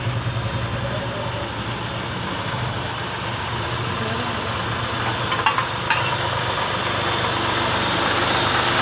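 A Kirloskar tractor engine fitted with a Mahindra gearbox idles steadily in a tractor workshop in Sri Ganganagar, a close, continuous low rumble with an even rhythmic throb throughout.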